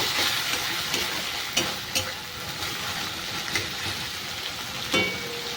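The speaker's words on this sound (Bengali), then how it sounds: "এর মধ্যে দিয়ে দেব একটা গোটা টমেটো দিয়ে ভালো করে মিশিয়ে নেব" A whole tomato gets stirred into a frying pan of cauliflower curry, with a loud steady sizzle and hiss and a few sharp scraping knocks of the spoon scattered throughout, no voices.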